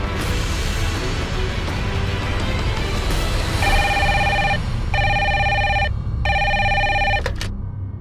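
A telephone rings in a series of loud, evenly spaced electronic rings over a steady noisy background, with a clear break between each ring.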